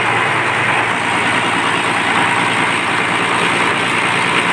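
A RoRo ship's large marine engine in Surigao, fitted with a Power Up fuel combustor, runs with a loud, steady, continuous rumbling drone close by, with no talk over it.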